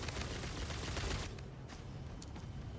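Video game gunfire crackles in a dense burst of rapid shots that dies away after about a second, leaving a few scattered distant pops over a low rumble.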